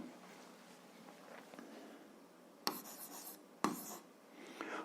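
Hand writing during an algebra lesson, quiet pen strokes scratching in short bursts, broken by two sharper taps or knocks near the end.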